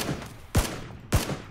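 Scattered gunshots in a shooter video game, a few sharp reports spaced apart over a noisy background.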